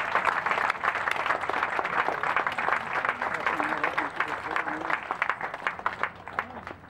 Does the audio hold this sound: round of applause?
yes